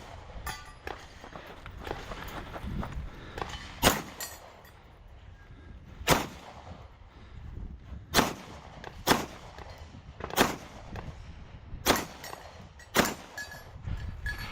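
Sharp pistol shots crack out one at a time, about eight of them spaced a second or two apart, over shuffling footsteps and movement on an outdoor multigun stage.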